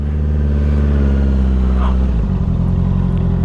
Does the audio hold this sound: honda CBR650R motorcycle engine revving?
yes